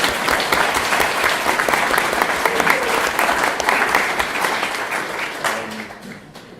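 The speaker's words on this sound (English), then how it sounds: "can we give Jenny a round of applause?" Wedding guests at a reception give a loud, sustained round of applause, dense clapping throughout that eases slightly over the final second.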